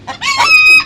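A chicken gives one short, loud, close call, a rising clucking squawk lasting about a second.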